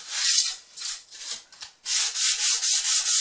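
Sanding by hand along the edge of a cedar board, with repeated rasping strokes, a few uneven passes and then a run of six steady, even ones, close and alone.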